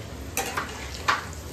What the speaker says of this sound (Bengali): মাংসের আলু ভাজা চলছে